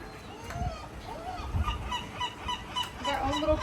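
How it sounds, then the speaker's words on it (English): A seagull on the Amalfi Coast gives harsh honking calls, repeated in uneven bursts over steady outdoor background noise, fairly close. "our own little private seagull"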